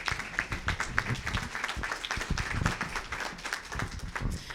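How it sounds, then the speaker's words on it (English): Audience applauding at a condo seminar, a moderate, fairly quiet burst of clapping with uneven hand claps throughout. "Can you give them a round of applause, please?"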